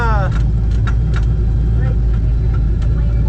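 A red first-generation Pontiac Firebird idles and rumbles at an ice drag race, a steady low engine drone with faint higher whines, under constant crowd and wind noise.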